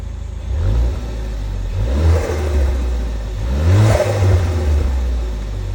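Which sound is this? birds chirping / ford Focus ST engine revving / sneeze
ford Focus ST engine revving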